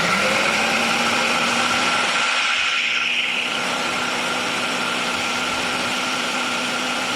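A kitchen blender runs steadily on its puree setting while making chocolate avocado pudding, a loud continuous motor whir that holds an even level throughout with a slight shift in pitch partway.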